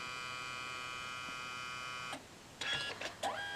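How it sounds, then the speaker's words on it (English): CMYK dye-sublimation photo printer aligning its paper: a steady electrical whine and hum for a couple of seconds, then a short drop and a few brief mechanical whirs and motor sweeps up close. "Now it's aligning the paper."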